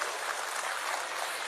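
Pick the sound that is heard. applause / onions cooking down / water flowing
applause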